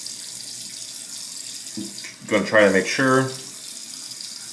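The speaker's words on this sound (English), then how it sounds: "We'll get some warm water on the face" Warm tap water running steadily into a bathroom sink for wetting the face before a razor shave, a soft constant stream under a short stretch of nearby speech.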